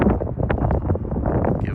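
Gusty wind buffeting the microphone while snow blows across a deck overlooking Okanagan Lake, a dense low roar with fluttering surges, close and steady.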